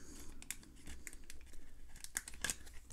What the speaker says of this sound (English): let me put it back in the card saver now